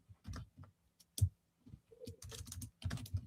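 Quick, soft keyboard typing clicks out a comment in short irregular bursts, close and quiet, with no voices.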